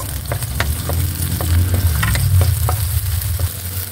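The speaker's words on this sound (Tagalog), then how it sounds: "Lagay na natin guys yung ating bawang. Sunod na natin guys yung ating sibuyas." Garlic and onion fry in hot oil for a vegetable chopsuey, giving a loud, continuous sizzle with a low rumble underneath and regular spatula scrapes and taps against the pan.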